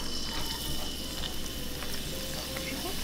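Two cloves of chopped garlic sizzle in hot cooking oil for a ginger chicken stir fry, a dense, close, continuous crackle with occasional small pops.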